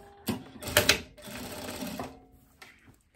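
A sewing machine stitches the front seam of a corset vest, with short close bursts of motor whir separated by brief pauses.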